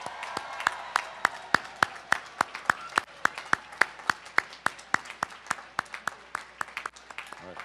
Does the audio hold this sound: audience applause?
yes